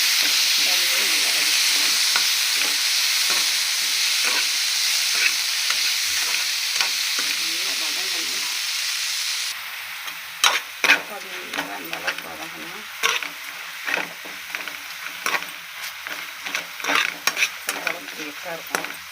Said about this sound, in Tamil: நல்லா இந்த அளவுக்கு வெங்காயம் நல்லா வதக்கணும்